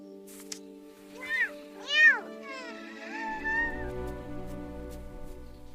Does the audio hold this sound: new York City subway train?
no